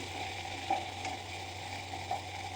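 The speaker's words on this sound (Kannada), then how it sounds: "ಅದಕ್ಕೋಸ್ಕರ ನಾನು ಒಗ್ಗರಣೆಯಲ್ಲಿ ನುಗ್ಗೆಕಾಯಿನ ಹಾಕ್ಕೊಂಡಿದ್ದೀನಿ" Drumstick pieces fry in hot tempering oil for a sambar, a soft steady sizzle close by with a few faint stirring clicks, quiet and without talk.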